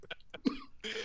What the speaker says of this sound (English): Oh, now I'm coughing.